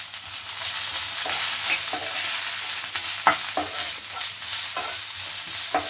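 Onion, ginger-garlic paste and green chili sauté in a hot pan with a continuous close sizzle, punctuated by irregular spoon scrapes and stirring knocks against the pan.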